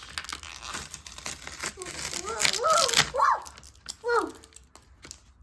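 Tape is torn off a small parcel in a series of crinkling, ripping pulls, close to the microphone, while a young voice talks over it.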